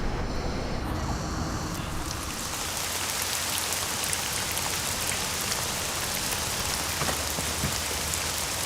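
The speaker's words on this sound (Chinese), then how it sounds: "下那么大雨还去？" Heavy rain pours down in a dense, loud, constant hiss of drops hitting surfaces, steady from start to finish with no voices.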